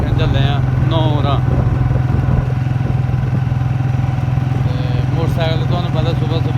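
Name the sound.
motorcycle riding in the early morning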